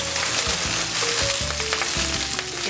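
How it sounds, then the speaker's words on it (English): Spinach sautéing in a little oil in a hot pan gives a steady, close sizzle that lasts throughout, with no talking over it. "I'm going to go straight back into this pan, a little oil. My spinach."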